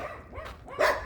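A dog barks twice in quick succession, close and fairly loud, the second bark sharper and stronger, with no talk over it.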